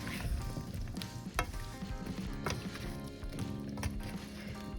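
Curry vegetables with sweet potato tossed in a hot pan, a steady sizzle and fry with scraping, clattering stirs, fairly faint and with no talking.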